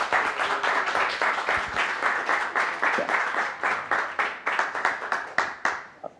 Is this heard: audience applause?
yes